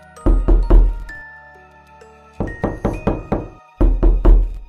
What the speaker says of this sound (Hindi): उसके दरवाजे पर लगातार एक खटखटाहट की आवाज हो रही थी